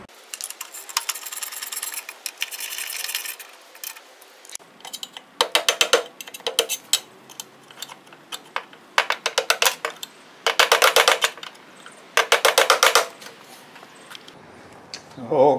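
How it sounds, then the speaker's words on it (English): Hammering bent tabs over on the muffler bolts of a Briggs & Stratton small engine, a run of sharp metallic taps in quick bursts with pauses between, close and fairly loud. "pound those tabs over so the bolts don't back out"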